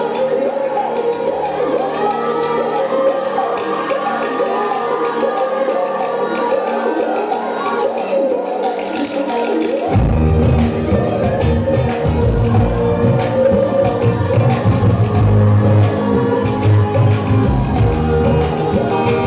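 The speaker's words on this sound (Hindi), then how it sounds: "एक बार तालियों की जोरदार गड़गड़ाहट हो जाए।" Crowd cheering and clapping at a school farewell event. A steady, loud din swells sharply halfway through into a heavier, fuller roar with shouts and whoops.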